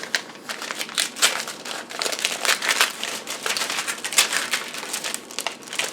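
A big paper envelope is torn open and handled, giving dense crinkling and crackling paper noise in quick bursts, close and fairly quiet, with no voices.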